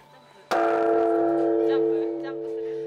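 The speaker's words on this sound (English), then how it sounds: "At Buddhist temples, the midnight bell was rung." A single deep bell strike rings out loudly, its rich tone humming and slowly fading over a few seconds.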